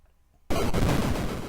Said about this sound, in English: there's explosion noise